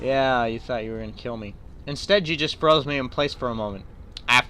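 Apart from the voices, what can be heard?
No everyday noises stand out.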